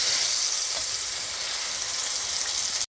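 Meat searing loudly in a 12-inch GLOBEHOME stainless steel frying pan, a steady close hiss of sizzling fat that runs unbroken and cuts off abruptly at the end.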